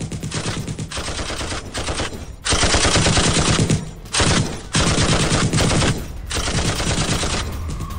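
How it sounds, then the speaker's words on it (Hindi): Georgian soldiers fighting in Ukraine fire machine guns at Russian positions, long loud bursts of rapid automatic fire broken by short pauses, sustained across the whole stretch. "जॉर्जिया के सैनिकों ने मशीन गन से रूस के ठिकानों को निशाना बनाया"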